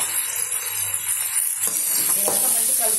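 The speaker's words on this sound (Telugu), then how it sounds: "ఇప్పుడు ఆనియన్స్ వేస్తున్నా" Onions go into hot oil for a spicy bitter gourd fry, and a steady sizzle swells as they hit the pan, with some stirring noise against the constant frying hiss.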